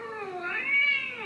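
A cat meows once in a single drawn-out, rising and falling meow, close and clear with no talk over it.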